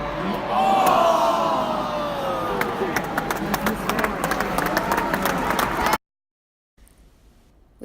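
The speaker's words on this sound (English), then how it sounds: "We also observed the crowd's moments of support for their teams through chants and cheers" A rugby match crowd cheers and claps loudly and steadily for about six seconds, with shouts rising above the broad roar, then cuts off into near silence.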